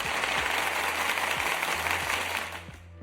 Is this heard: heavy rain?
no